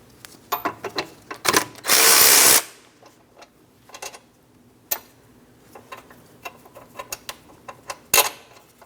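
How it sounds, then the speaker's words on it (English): A power tool whirs in a short burst and then clicks, loosening the brake caliper mounting bolt on a 2003-2007 Cadillac CTS, with scattered metallic clinks and ratchet ticks around it. "I'm going to fully remove my first mounting bolt, but start it back in a couple threads after a quick inspection"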